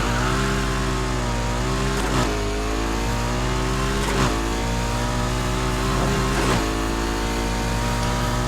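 A McLaren P1 engine in Need for Speed Heat revs hard through the gears, a loud continuous roar with three sharp dips at the upshifts, then climbing again each time, with no talking over it.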